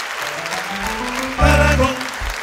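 A concert audience at a jazz festival tribute show applauds steadily, the clapping swelling louder midway over a sustained band chord.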